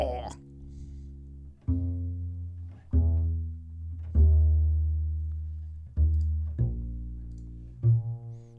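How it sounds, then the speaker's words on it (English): Acoustic bass stem from a Christmas song: six deep plucked notes, each with a sharp attack and a long ringing decay, spaced about one to two seconds apart, alone and clear with a slight string rattle. "Move into the acoustic bass."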